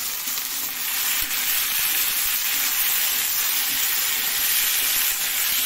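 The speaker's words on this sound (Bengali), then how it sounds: "প্রথমে তেল গরম করে দিয়ে দিল কড়াইয়ের মধ্যে, এটাকে সুন্দর করে ভাজি বানিয়ে নেব।" Bitter gourd sizzles steadily in hot oil in a wok, a loud, close, continuous frying hiss with occasional stirring scrapes and no voices.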